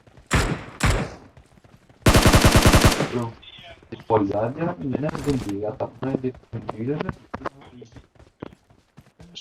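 Gunfire in a video game, with a dense burst of rapid automatic shots and a few isolated shots near the start, ringing out close and loud among frequent talking from players.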